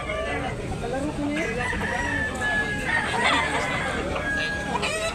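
A bullstag gamecock crows loudly on a farm in Tabunok, Talisay, Cebu, the cock-a-doodle-doo rising over steady yard noise and other fowl clucking nearby, with faint voices in the background.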